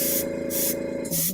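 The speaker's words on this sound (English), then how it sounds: "See that how it sprays kind of more, the pattern's more chunky" Paint sprays onto a sketch card in short hissing bursts with brief gaps, close and steady, giving a chunky spray pattern.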